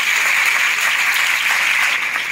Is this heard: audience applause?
yes